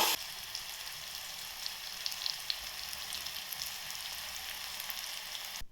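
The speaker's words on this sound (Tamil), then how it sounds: "இப்போது நம்ம கட் பண்ணி வச்சுருக்க தக்காளியை போட்டு அதையும் 2 to 3 மினிட்ஸ் வதக்குங்க." Onions and tomatoes sautéing in a pan give off a soft, even sizzle with faint pops, continuous from start to finish and heard up close.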